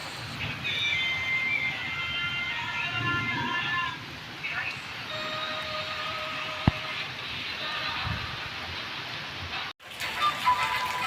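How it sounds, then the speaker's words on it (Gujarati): Heavy rain pours in a steady broadband wash, with voices talking beneath it and a brief dropout near the end. "હા વરસાદ થોડો વધારે થયો. જો તમે જોઈ શકો કે વરસાદ થોડો વધારે આવી જાય."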